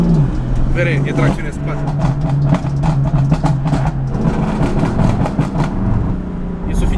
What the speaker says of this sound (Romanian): vreau să văd cât de tare dă popsurile de la turații mai mari.